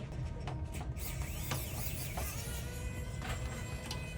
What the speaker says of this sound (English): we're going to use the T10 to unscrew the screw that is attached to the Wi-Fi network module.